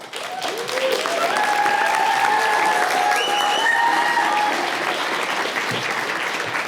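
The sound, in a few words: audience applause welcoming a speaker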